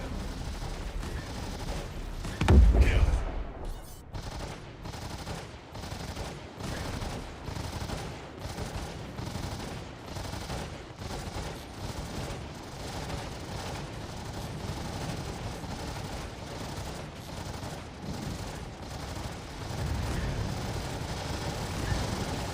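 Ships trade gunfire in a space combat video game, with a heavy blast near the start and then a long, steady stream of rapid automatic fire and rumbling impacts throughout.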